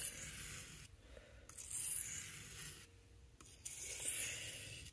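A Victorinox Swiss Army knife main blade is honed on a higher-grit stone, giving soft, steady rasping strokes that alternate with brief pauses, close and fairly quiet.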